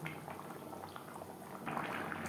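Pangas fish curry bubbling in gravy in a pot, a steady low simmering burble with soft pops that grows slightly louder near the end, with no voices.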